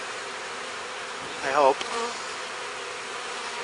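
Packaged honeybees buzzing during installation of two new hives: a steady swarm drone, louder in a brief swell partway through, with a short spoken remark over it.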